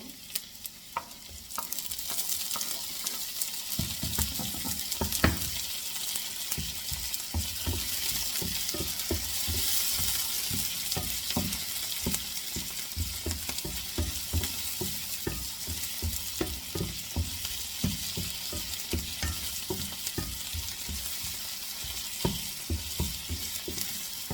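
Tomato stir-fried with onion in a pan, part of a talong-with-tuna dish: a constant close sizzle broken by frequent sharp scrapes and clicks of a utensil against the pan, no voices.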